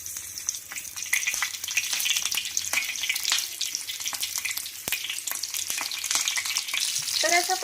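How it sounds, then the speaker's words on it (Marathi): Stuffed green chillies fry in hot oil in a pan over low heat, giving a continuous dense crackling sizzle close by, with scattered pops and a few soft clicks, and no voices. "एक एक मिरची आपण ठेवणार आहोत आणि छान असं मंद गॅसवर ही मिरची फ्राय करून घेणार आहोत।"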